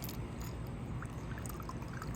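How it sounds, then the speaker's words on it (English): A shaken cocktail of cherry brandy, sour mix and a splash of strawberry daiquiri mix being poured, a soft continuous liquid trickle held at an even, quiet level throughout. "All right, then we're gonna shake this up and we pour."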